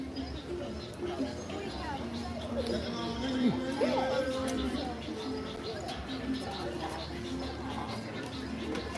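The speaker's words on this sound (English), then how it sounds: "that bird's got to catch his breath at some point." A bird calls over and over in an outdoor crowd at EPCOT's Flower and Garden festival, its repeated calls fairly faint beneath steady background chatter and ambient park noise.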